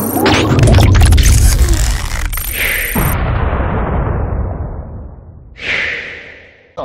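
Gunfire in a video game: a cluster of sharp loud cracks and thumps, then a long ringing, decaying tail and another sharp hit near the end, with no talking.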